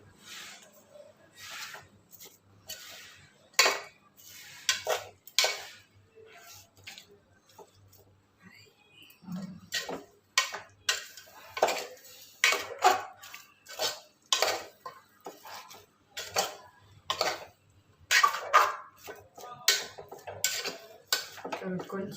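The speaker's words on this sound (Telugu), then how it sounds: "మొత్తం వేసి కలుపుకోండి." Fenugreek leaves, green chillies and curry leaves being stirred in a metal pot, with repeated close scraping and clinking strokes of a utensil that come in uneven bursts and short pauses.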